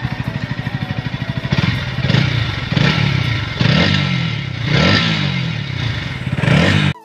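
Bajaj Pulsar NS 160 motorcycle engine running after servicing, a loud, close, steady idle with rhythmic throttle blips rising and falling several times.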